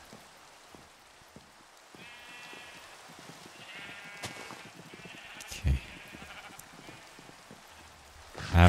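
Rain falling in Minecraft, a faint continuous patter of drops with repeated sheep bleats over it, a few sharp clicks and a thud; a brief spoken word is heard near the start.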